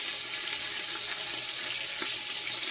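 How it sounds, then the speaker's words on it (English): Bacon dropped into hot oil and grease in a frying pan gives a steady, close hiss of sizzling, with a few faint pops and crackles scattered through it. "I'm going to put my bacon in."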